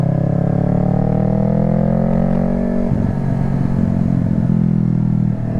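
A Yamaha R3 motorcycle engine runs loud and close with a steady harmonic hum, then shifts partway through into a rougher, throbbing, pulsing note as the revs change.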